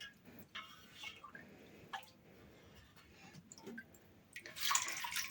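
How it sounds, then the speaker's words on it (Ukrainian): Water added in small amounts over cheese curds while making Gouda cheese, heard as faint intermittent trickles and drips that swell into a brief louder pour near the end. "за рахунок додавання води ми промиваємо сирне зерно і знижуємо кислотність"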